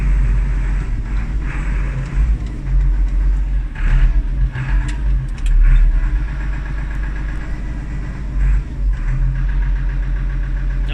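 A Ford 7810 Silver Jubilee tractor drives along with its engine producing a loud, steady low rumble, periodic surges of revving and some rattling, heard close with no talk.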